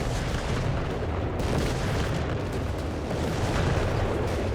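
A dense, continuous artillery barrage in the World War II strategy game Company of Heroes 3, with booming impacts merging into a steady, loud rumble and no pauses.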